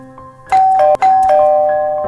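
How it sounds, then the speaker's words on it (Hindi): A doorbell chimes two clear ding-dong tones, loud and close, the second note ringing out and slowly fading. "दरवाजे की घंटी बजाता है।"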